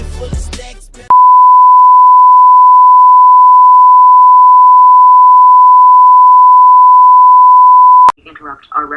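A loud, steady single-pitch alert beep holds unbroken for about seven seconds as a special broadcast alert tone, cutting in after speech and followed by more talk.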